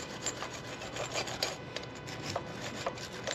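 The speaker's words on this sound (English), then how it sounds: "I'm gonna grab my wire brush." Wire brush scraping debris off a part of an Echo Timberwolf CS590 chainsaw, a close, raspy scrubbing repeated in quick strokes with small ticking accents.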